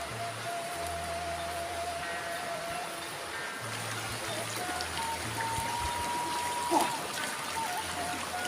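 A river in Cianjur flows with a soft, continuous trickling and burbling, steady and moderately close, with faint tonal hums in the background.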